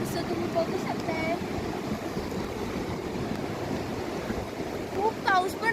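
Sea waves surge and wash continuously along Alibag beach on a windy, rainy day near high tide, a broad steady roar with wind buffeting the microphone, while a few faint voices drift in near the end.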